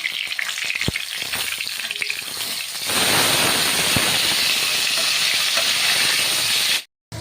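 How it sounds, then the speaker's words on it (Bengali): Rohu fish fries in hot mustard oil, a steady sizzle that jumps to a louder, denser hiss partway through and holds until it cuts off abruptly near the end. "এখন আমি মাছটা ভেজে নেবো ভালো করে।"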